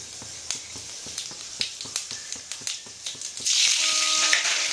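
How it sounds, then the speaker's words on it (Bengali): Bay leaf and panch phoron spices crackle and sizzle in about a tablespoon of hot oil in a kadai for a Bengali-style pumpkin and chickpea dish, with steady popping that swells into a louder hiss near the end. "এক টেবিল চামচ মতো তেল দিলাম দিয়ে আমি এবার তেজপাতা পাঁচ ফোড়ন দিলাম"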